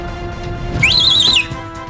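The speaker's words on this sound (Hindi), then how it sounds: "तो ऐसे सीटी मार के बुला लेंगे, ठीक है?" A single sharp, loud whistle call lasting about half a second, rising then warbling slightly before dropping off, over faint background noise.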